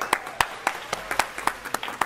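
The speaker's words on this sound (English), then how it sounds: "Give a round of applause" A small group applauding in a casual studio setting, sparse, separate claps in an uneven rhythm, close and moderately loud, with no talking over them.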